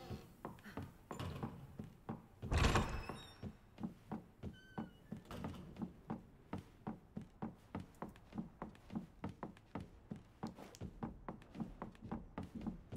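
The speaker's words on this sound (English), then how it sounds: "See, you hear him stomping around up there?" Heavy, evenly spaced stomping footsteps of Mr. X pacing overhead in the video game Resident Evil 2 Remake, a steady string of dull thuds that continues throughout with one louder crash early on.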